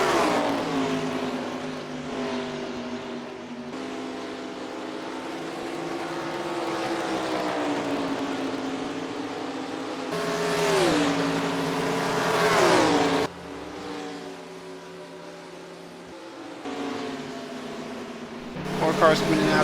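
Race car engines idle and rev on pit road during a NASCAR Racing 2003 session at Nashville, with steady droning and rising, whining passes under a voice talking.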